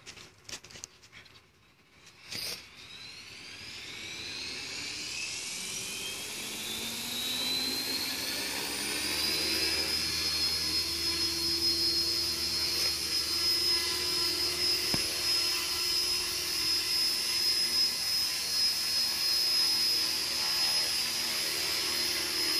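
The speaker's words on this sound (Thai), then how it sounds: "ตอนนี้ท่านก็วาง เฮลิคอปเตอร์ไว้ที่พื้นได้เลยนะครับตอนนี้ก็จะทำการบิน" A radio-controlled Forza 450 helicopter spins up on the ground and lifts off, its motor and rotor whine rising steadily in pitch to a loud, sustained high buzz after a few early clicks.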